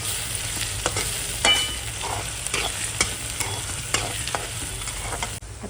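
Onion frying over medium heat in a pan with a bay leaf added, giving a steady sizzle broken by repeated scraping strokes of a spoon stirring, close up with no voices.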